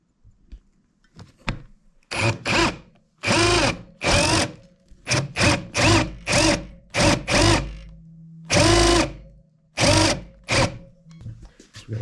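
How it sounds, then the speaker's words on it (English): Power drill boring a recess for a bolt head into a wooden workbench leg, running in a series of short, loud bursts with brief pauses between them and no talking. "We're going to drill out where the head of this is going to go."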